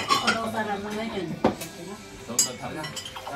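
Plates and spoons clink at a family Christmas Eve dinner table, with a few sharp knocks scattered beneath continuous conversation.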